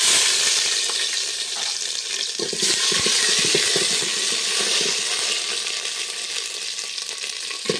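Ginger hits hot oil already crackling with panch phoron spices for a khichuri meal, giving a loud, steady, close sizzle that runs the whole time with faint scraping from stirring.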